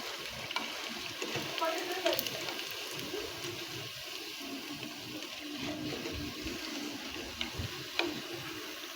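Potato pakoras frying in hot oil give off a steady, dense crackle and hiss, with a few sharper pops standing out now and then.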